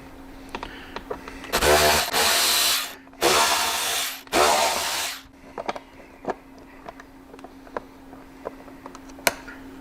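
A power tool whirs in three loud bursts while removing the hinge cover screws from a motorcycle speaker lid, separated by short pauses and followed by small clicks and handling taps.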